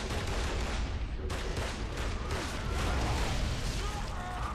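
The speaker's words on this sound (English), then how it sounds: "I got sniped!" Gunfire rings out in the video game Gears of War Judgment, with sniper shots among dense, rumbling battle noise and overlapping bursts that stay loud and continuous throughout.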